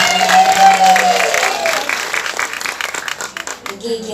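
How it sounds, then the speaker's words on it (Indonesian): Audience applause at a live Islamic religious gathering (ngaji), broad clapping from a crowd mixed with voices, loud at first with a tone over it, then thinning into scattered claps. "Tepuk tangan dulu dong."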